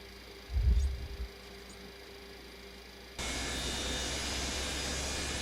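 Simulated Boeing 727-200 jet engines in Microsoft Flight Simulator 2024 drone with a steady hum; a brief low thump sounds early, then a broad hissing roar swells and holds steady to the end.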